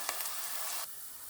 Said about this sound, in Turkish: soğanlarım ve biberlerim yumuşayana kadar soğanımı ve biberimi kavurdum